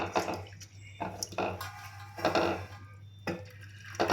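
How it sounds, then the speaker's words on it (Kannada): Water poured over washed moong dal in a vessel, splashing and gurgling in several uneven bursts, close and fairly loud with brief pauses between pours. "ಹೆಸರು ಬೇಳೆ ಮುಳುಗೋ ಅಷ್ಟು ನೀರು ಹಾಕೋಣ"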